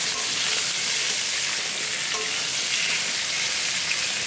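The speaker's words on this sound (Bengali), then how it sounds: "লবণ দিয়ে একটু নেড়ে ফেলে দেবো" Pumpkin, potato and soya chunks frying in a pan with a pinch of salt, stirred in a dense continuous sizzle, close up and fairly loud, no voices.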